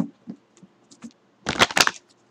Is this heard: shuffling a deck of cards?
yes